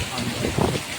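Heavy rain pouring steadily in a farming area, a dense, even wash of drops striking surfaces with no pauses across the short stretch.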